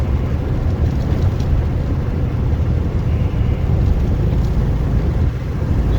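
A 1969 Volkswagen Beetle on a road test drive, steady loud engine drone and road rumble filling the cabin continuously with no talk.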